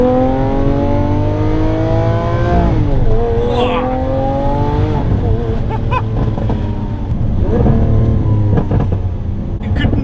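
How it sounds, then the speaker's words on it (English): A 2018 Lamborghini Aventador S engine revs repeatedly, its loud, close roar climbing in pitch several times and dropping back between pulls, with a steady throaty drone underneath throughout. "Listen as you build the revs up to this orchestra."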